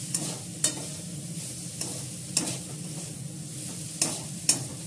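Chowmein with carrot, capsicum and green chilli stir-fries in a little oil, a low steady sizzle broken by regular sharp scrapes and clinks of a spatula against the pan, no speech.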